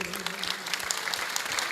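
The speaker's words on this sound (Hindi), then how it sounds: "जोरदार तालियों से स्वागत करिए।" Brisk applause from a live audience at a devotional music performance welcomes a performer, a continuous clatter of many hands with a voice faintly underneath.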